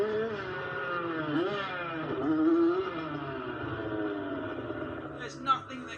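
Engine of a 50cc automatic motocross bike ridden by a 5-year-old, racing and leaping a tabletop jump. A high, buzzing two-stroke whine rises and falls with the throttle, close and steady, and a race commentator's voice runs over it.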